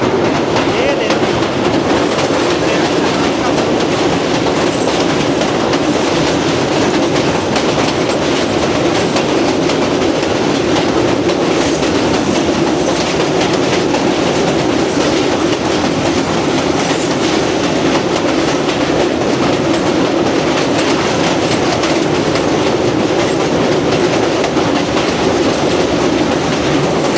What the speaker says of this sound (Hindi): थोड़ी देर तक दरियाए चिनाब का पुल क्रॉस करने वाली है रहमान बाबा